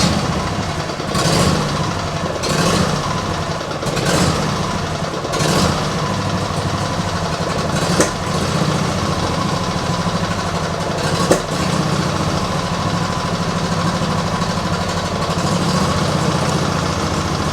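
A cold engine with an automatic choke idles steadily after ignition, a continuous mechanical drone with several loud bursts of uneven revving in the first seconds and occasional sharp clicks later.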